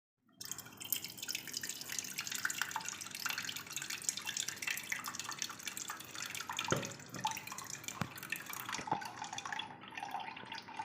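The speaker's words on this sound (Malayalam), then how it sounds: "ഇനി നമുക്കിതൊരു പാത്രത്തിലോട്ട് അരിച്ച് മാറ്റിയെടുക്കാം" Blended beetroot puree, ground with water, streams steadily through a strainer into a vessel, a continuous close dripping and trickling with a few sharper splashes.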